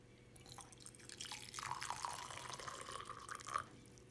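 Drops of Benedict's reagent falling into a test tube with very hot water, soft dripping and trickling liquid sounds with small bright plinks, quiet and close over a faint background hum.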